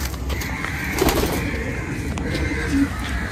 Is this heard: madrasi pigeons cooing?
yes